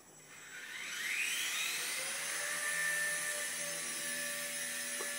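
A Blade Mini CP RC helicopter hovering in flight, a high whining rotor and motor tone that rises as it spools up, then holds steady and fairly loud with no talking.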